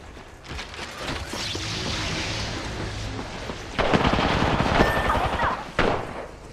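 Gunfire in the battle royale video game Apex Legends, with sustained rattling shots swelling louder midway and sharp bursts near the end, mixed with rumbling booms and no talk.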